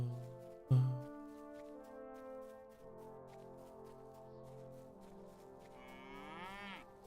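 Cattle mooing in the fantasy online role-playing game Lord of the Rings Online: a loud, low, drawn-out moo begins the clip and others follow. Several long, tonal calls overlap and rise and fall in pitch over quiet in-game ambience.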